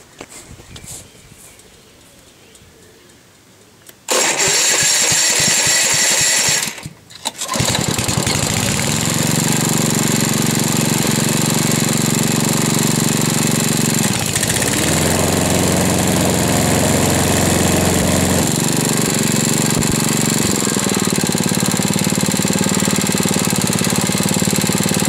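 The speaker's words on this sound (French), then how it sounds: "Démarrage après des réglages des soupapes." A Honda HRD 535 motorcycle engine, just back from a valve adjustment, cranks and catches. After a brief stumble it settles into a steady, loud, close idle with mechanical chatter that runs on without a break.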